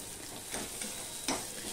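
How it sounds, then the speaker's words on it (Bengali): Garlic, dried red chillies and five-spice seeds sizzle steadily in hot oil for a tempering, with a few soft stirring scrapes over a continuous low crackle, close and fairly quiet. "শুকনো লঙ্কা দিলাম, 5 ফোড়ন দিলাম আর রসুন দিলাম।"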